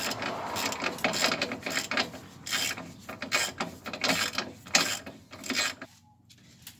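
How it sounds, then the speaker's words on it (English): A ratchet tightens the bottom strut bolt on the rear suspension of a 2004 Nissan Armada, heard as close, steady clicking and metallic scraping in repeated strokes with no one speaking. "we're reattaching the bottom strut bolt."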